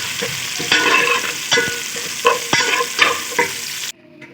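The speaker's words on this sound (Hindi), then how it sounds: "अब टमाटरों की हम भुनाई करेंगे 5 से 6 मिनट तक" Tomatoes frying in a pot after garlic-ginger paste, for a beef yakhni pulao, with steady sizzling and repeated spoon-stirring scrapes and clinks throughout, close and fairly loud, cutting off near the end.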